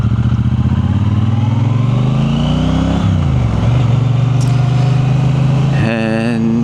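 A Triumph T120 motorcycle in road mode is heard from close by, loud and continuous. The engine note climbs through the gears, drops, then holds a steady drone. A voice speaks over it.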